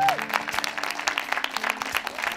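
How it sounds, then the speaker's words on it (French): An audience at a children's event applauds the young performers and their leaders with steady, dense clapping from start to finish, even and moderately loud throughout. "Allez, les applaudissements, et puis c'est bon."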